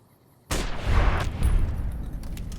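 A marksman carbine fires in Fallout New Vegas: after a quiet start, a sudden loud volley erupts into rapid, overlapping gunshots that ring out with a rumbling, echoing tail.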